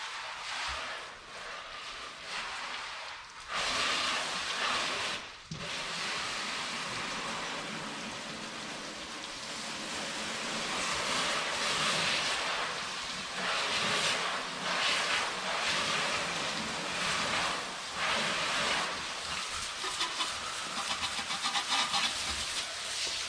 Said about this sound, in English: Now the last step is just to rinse.